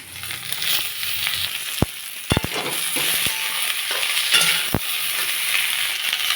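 Pointed gourd and onion sizzle steadily in hot oil with whole cumin, with a few sharp clinks of a utensil against the pan.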